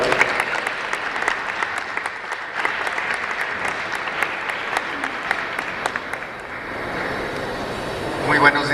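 An audience at a Holocaust remembrance event welcomes a speaker with loud, sustained applause, dense clapping from many hands filling the room for several seconds, while a voice is heard talking over it.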